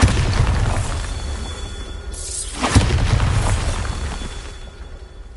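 A Bombarda spell explosion in Hogwarts Legacy on PS5: a rising whoosh swells into a single loud boom, followed by a rumbling tail that slowly fades under steady background game ambience.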